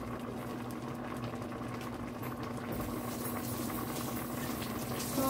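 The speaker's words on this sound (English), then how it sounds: "I'm gonna lower the heat and just let it simmer" A pot of homemade tomato ketchup simmering on the stove, with a steady low bubbling and a hum beneath it that swells slightly toward the end.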